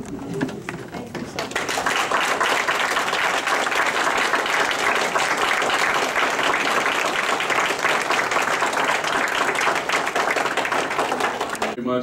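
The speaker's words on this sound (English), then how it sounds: "we want to do one more applause" A large crowd at a Board of Education meeting applauds continuously, dense clapping that swells quickly and holds steady for several seconds.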